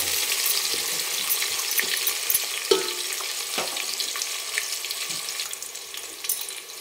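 Vertically sliced onion frying in hot oil with whole spices, a steady close sizzle with faint crackles and a brief clatter near the middle, continuous and without talk.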